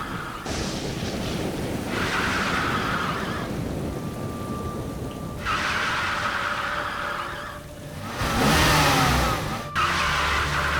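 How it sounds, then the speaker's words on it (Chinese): A car engine revs hard in repeated surges as its tyres spin without grip on a rain-soaked village road, with rain and rumbling in the background. "轮胎打滑，走不了了。"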